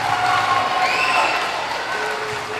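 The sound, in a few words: school audience applause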